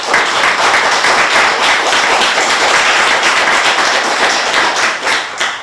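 Dense, steady applause from a large crowd at a police chief swearing-in ceremony, loud and continuous throughout with no pause.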